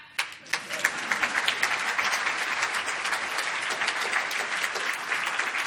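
Audience applause breaks out after a few sharp opening claps and swells into a steady, dense wash of clapping that holds for several seconds with no speech over it.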